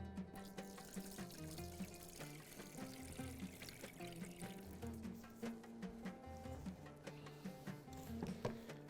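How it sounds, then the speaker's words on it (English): Water pours and trickles steadily as soaked, cleaned rice is drained, a continuous wet splashing at close range with small clinks, no talking over it. "going to drain the water out of the rice"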